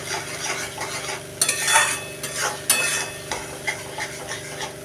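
A spoon stirs and mixes a paste of green plantain peel with onion and garlic in a pan, making repeated close scraping strokes over a soft frying sizzle.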